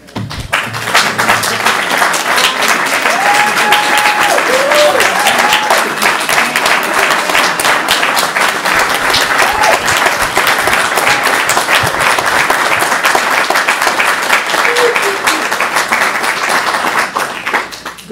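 Sustained applause from a meeting audience at the Ann Arbor Community Center, dense steady clapping filling the room for the whole stretch with a few faint voices underneath.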